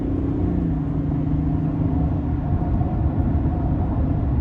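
A 2022 GMC Sierra 1500 Limited SLT Duramax cruises down the interstate at a steady speed, with a continuous low engine and road rumble and an even drone throughout, no voices.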